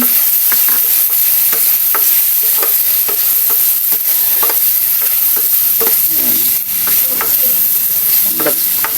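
Beef with button mushrooms and oyster sauce fries with a loud, constant close sizzle, punctuated by frequent light clinks and taps of a utensil stirring against the pan.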